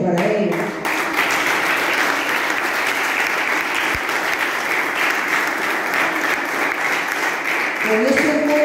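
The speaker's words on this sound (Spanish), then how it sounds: "Han dado un aplauso fuerte para ellos." Strong applause for baseball coaches at a flag ceremony for a national baseball team, a dense sustained roar of clapping from a crowd, with brief voices at the start and end.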